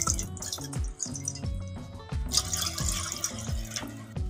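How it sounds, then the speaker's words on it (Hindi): Water is poured into a pan to make kahwa, splashing and trickling with uneven, dripping spurts that stay close and fairly loud. "अभी हम इसमें पानी शामिल कर देंगे"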